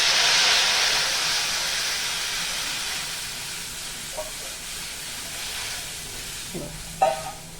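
A loud burst of steamy hiss as kokum water is poured into a sizzling tempering, gradually fading, with a few soft clinks and stirring sounds near the end.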